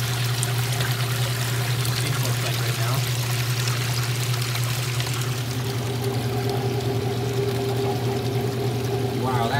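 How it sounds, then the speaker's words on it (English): A Maytag washing machine pumps out water with a steady motor hum and a continuous gushing, pouring flow, loud and close throughout. "So we are still pumping a lot of water out over here."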